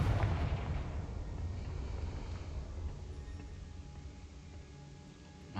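Confringo blasting spell explosion in Hogwarts Legacy, a dense rumbling burst of fire and booms that rolls on for several seconds, loud at the start and slowly fading, with no talk over it.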